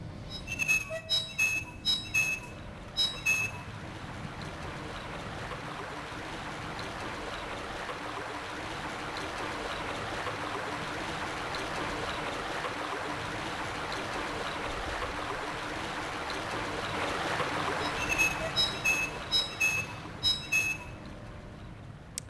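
Water drains through an opened valve in Silent Hill, a continuous rushing flow that swells toward the end, with short chiming tones at the start and finish.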